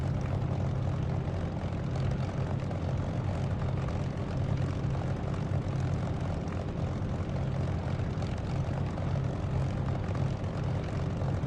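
An aircraft engine in the DCS flight simulator game runs as a steady, dense drone with a low throbbing hum, constant and unbroken throughout with no talk over it.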